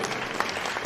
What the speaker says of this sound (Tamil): உங்கள் பலத்த கைத்தட்டலோடு